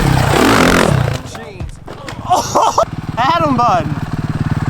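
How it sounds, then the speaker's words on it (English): A motorcycle engine runs loudly nearby, then sputters and drops away after a hard brake tap, with a voice calling out over the fading engine. "You stalled the bike you tapped so hard."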